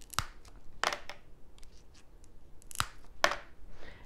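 Seabell Max Pro compound mosaic nippers snap through thin high-fired porcelain tile, giving about four sharp, close cracking clicks at uneven intervals in a quiet room.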